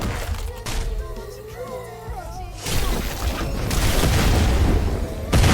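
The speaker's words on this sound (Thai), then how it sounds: "โอ้โห ระเบิด" Heavy explosions boom in the zombie-raid video game Devil Hunter, deep broadband blasts swelling into a sustained rumbling roar with a fresh blast at the end, following a brief stretch of someone talking.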